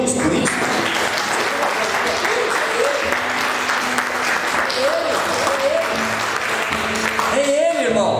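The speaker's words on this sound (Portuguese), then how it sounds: "Você pode aplaudir a Deus por isso?" A church congregation applauds steadily in a large hall, a dense wash of clapping throughout, with voices and some singing or cheering rising over it.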